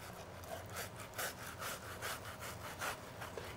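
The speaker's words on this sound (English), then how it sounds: "Hold it at the end and move your knife in a jigsaw fashion." Knife sawing back and forth to cut the skin off a salmon fillet, a soft rhythmic rasping scrape repeating about every half second, close and quiet.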